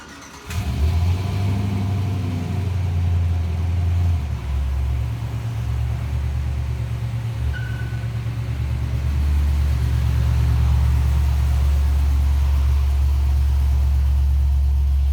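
Chevrolet Silverado NBS pickup truck pulling in and settling to idle, a steady loud low engine rumble running throughout with a slight rise in revs near the end, no talking.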